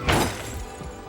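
A car crash sound effect, a loud, sharp impact with a shattering burst at the start that then fades into a rumbling, noisy decay, with no voices.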